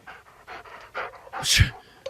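Bulldogs in a 1961 werewolf horror film pant in quick repeated breaths, ending in a louder huff with a low snort, heard close and clear.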